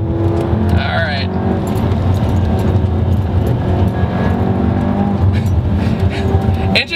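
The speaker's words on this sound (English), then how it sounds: "Engine has an interesting sound to it, that's for sure too." A 2014 Volkswagen Turbo Beetle engine drones steadily from inside the moving car, a loud continuous hum with road noise and small shifts in pitch throughout.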